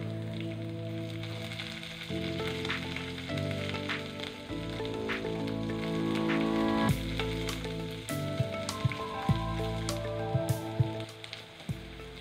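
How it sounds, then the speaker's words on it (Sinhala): Chopped onions, curry leaves and garlic sizzle steadily in hot oil for a masala dosa filling, with occasional scrapes and clicks from stirring, all under soft background music. "ඊළඟට කපාගත්ත බීරුණු, කරපිංචා, සුදුරුණු ටික එකතු කරගෙන හොඳින් කලවම් කරමින් තෙලේ මලව ගන්නවා විනාඩියක් විතර"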